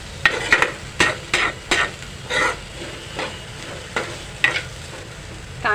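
Onion, ginger and garlic frying in a pan for potato bhaji, stirred with a utensil that scrapes and clatters in a series of distinct strokes over a low, steady sizzle, close and clear with no talking.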